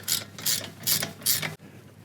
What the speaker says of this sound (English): so we're gonna grab a 19 and we'll tighten this down